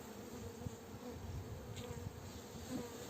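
A continuous, even buzz of honeybees flapping their wings around the hive, low and humming at a quiet, steady level from start to finish without speech.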